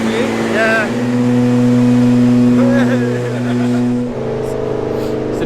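An 1800bhp Nissan GTR engine running at a steady idle, a loud, near, droning hum with brief rising revs, a shift in pitch near the end, and people talking over it.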